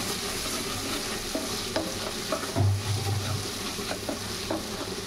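Spices being sautéed in a pan for a home-cooked Bengali dish: a steady, close sizzle and frying hiss with the scrape of stirring, and a brief louder burst of sizzling partway through.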